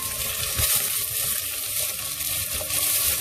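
Roughly chopped onions hit a pan with caramelized garlic and fry, a close, steady hiss and sizzle with slight crackling, continuous throughout.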